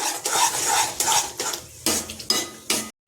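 Spinach for palak paneer stirred in a pan, a spoon scraping and clinking against the metal in repeated strokes close up, with short pauses between bursts and no talking.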